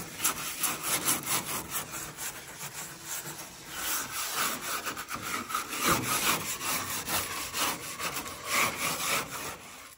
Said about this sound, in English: now we're scrubbing the wood on the enclosure some